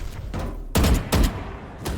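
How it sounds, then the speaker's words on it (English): Gunshots fired through a smoke cloud on the Abyss map in Valorant, several sharp close bursts in quick succession with game ambience between them. "you can bang through the smoke and easy kill for you"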